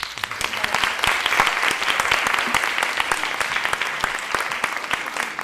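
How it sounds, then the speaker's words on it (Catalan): Audience at a theatre gives a strong, sustained round of applause after a performance of Alexandria, dense overlapping claps at an even level throughout, with no speech over it. "per favor un fort aplaudiment a vosaltres"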